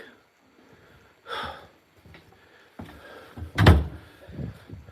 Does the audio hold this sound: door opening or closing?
yes